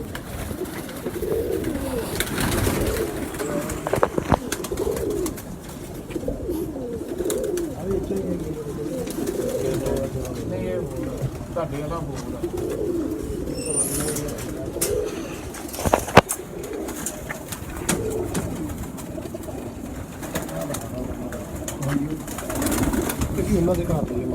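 Pure breeder pigeons kept in cages cooing in low, rolling repeated phrases, with someone talking over them and the odd brief rustle or flap nearby.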